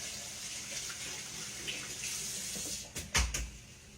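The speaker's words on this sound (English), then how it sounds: "Let me rinse my hands off" A kitchen tap runs steadily in a home kitchen while hands are rinsed before frying chicken fingers, a soft continuous water hiss ending with a couple of sharper splashes and knocks.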